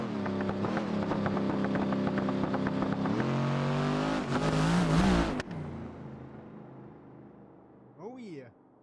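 A race car roaring down a drag strip at Bradenton Motorsports Park, loud sustained engine whine climbing through gear changes then fading away, with a brief voice near the end.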